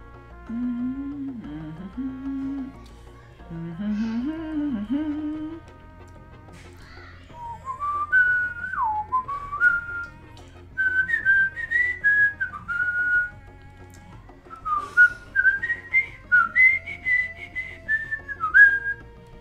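A person whistles a wandering melody, first in low warbling phrases and then in higher sliding notes, close and clear in short bursts with pauses between.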